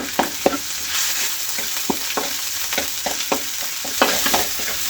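Garlic and cumin paste masala frying in oil for a beef dish, loud sizzling with repeated scraping strokes of a spoon stirring it in a steady rhythm.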